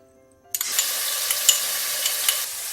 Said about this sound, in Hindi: एक बर्तन लेंगे, इसमें ऑयल डाल देंगे और इसमें डालेंगे अदरक लहसुन का पेस्ट